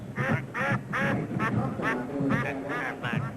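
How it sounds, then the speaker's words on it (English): Ducks quack in a rapid series of about eight loud, nasal calls in an even rhythm, played as a sound cue during a college football radio broadcast, with no voices over them. "Cue the Ducks."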